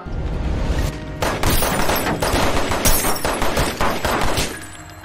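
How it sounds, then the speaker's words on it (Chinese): Loud, rapid bursts of gunfire from police officers shooting a young man during a traffic stop in a thriller film, a dense volley of shots with sharp cracks over about five seconds, no talk. "枪声过后"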